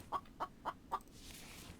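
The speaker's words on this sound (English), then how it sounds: "Where's that chicken?" In the survival video game The Infected, a chicken lets out four short, evenly spaced clucks at low volume, then a quiet background hiss carries on alone.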